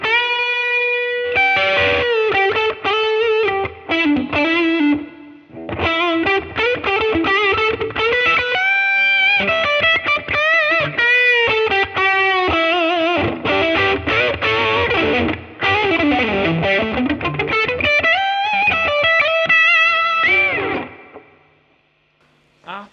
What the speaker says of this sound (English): Little lead tones.